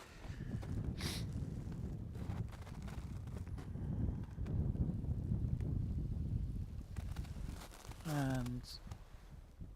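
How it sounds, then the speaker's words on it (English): Wind gusts across the mic outdoors on an Arctic night in Utsjoki, a rushing broadband roar with soft thumps, while a person speaks briefly. "the wind is picking up"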